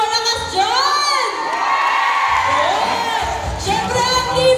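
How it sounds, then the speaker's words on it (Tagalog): A crowd of children at a Filipino group dance event shouts and cheers loudly, voices rising and swooping in excited whoops that keep going throughout. "Isang sigawan naman na malakas dyan!"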